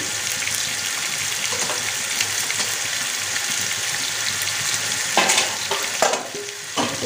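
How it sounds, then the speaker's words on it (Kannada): Hot oil sizzling and crackling in a pan as a tempering for poha (avalakki) is made, a steady frying hiss throughout with louder spattering bursts and stirring toward the end. "ಅವಲಕ್ಕಿ ಒಗ್ಗರಣೆ ರೆಡಿ ಆಯಿತು"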